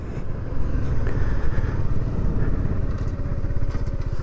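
A 2023 Kawasaki Z125 motorcycle ridden at close range, its small engine droning steadily and loudly with a slight rise and fall as gears change.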